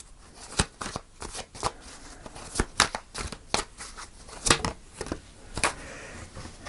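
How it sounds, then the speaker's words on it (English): Tarot cards are shuffled and pulled by hand, giving a series of sharp, close riffling snaps and flicks in irregular bursts over a quiet background. "I'm going to pull one more card with her."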